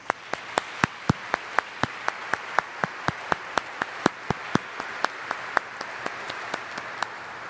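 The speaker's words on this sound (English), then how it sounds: "please join me in applauding the success of this very special class." Sparse, evenly spaced claps at a high school graduation ceremony, a handful of distinct sharp hand claps in a steady rhythm over a quiet room rather than full audience applause.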